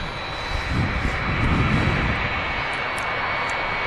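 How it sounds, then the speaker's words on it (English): A Jet2 Holidays Boeing 757-200 lines up on the runway at Manchester Airport for departure to Tenerife, its engines producing a loud, steady roar and rumble from a moderate distance that swells slightly and then holds. "Lining up now is the Jet2 Holidays 757-200 departing to Tenerife"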